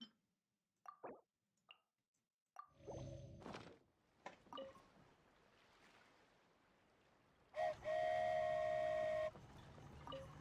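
A toy train in the Genshin Impact video game lets out a steady, tonal whistle lasting nearly two seconds near the end, after scattered soft plops and a low rumbling wash of game ambience.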